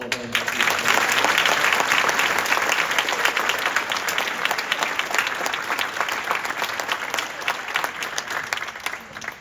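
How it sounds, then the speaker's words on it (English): An audience at a Gallery of Achievement graduation event applauds, dense sustained clapping that starts abruptly and keeps going, loud and even, slowly thinning toward the end. "Let's have one more round of applause for all of our"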